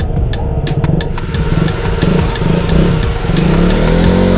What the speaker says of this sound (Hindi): अभी मैं पहली बार इतनी लंबी राइड कर रहा हूँ KTM पे।